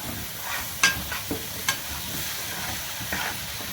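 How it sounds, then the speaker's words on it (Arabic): Potatoes fried with spices in a pan, sizzling steadily while being stirred, with a few sharp scraping clicks of the utensil against the pan. "وهننزل بالبطاطس نديها تقليبه كده مع البهارات دي كلها بالشكل ده كده"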